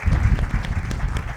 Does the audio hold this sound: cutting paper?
no